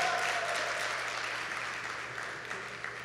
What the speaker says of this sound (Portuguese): Salva de palmas para o Natan.